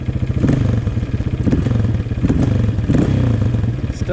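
A Honda CRF230 dirt bike engine with a rich-running carburetor idles close by: a loud, low, steady thumping putter with rhythmic surges about every half second.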